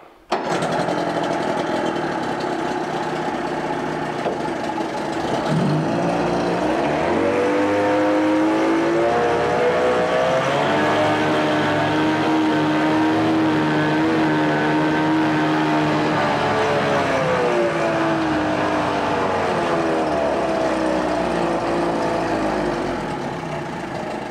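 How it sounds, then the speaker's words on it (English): A 1988 Johnson 30hp tiller outboard boat motor runs continuously at close range, its pitch rising and falling as the throttle changes, with a steady buzzing drone. "This is a great running little engine."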